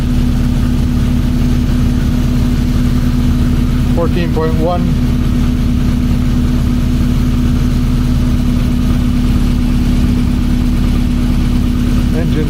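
A 1982 VW Westfalia engine idling, a loud, steady low rumble that holds constant under a brief spoken remark.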